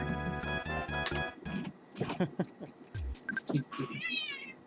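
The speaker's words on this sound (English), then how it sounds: "I have a cat that is demanding attention" A house cat meows for attention, several clear meows mixed with game music and other sounds, close by and fairly loud.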